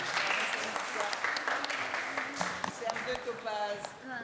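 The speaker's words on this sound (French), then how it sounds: "Allez, on applaudit Maëlys." An audience at a Créole dictation event in Réunion claps for a student, a moderate, fairly quiet patter of applause with talking voices mixed in and over it.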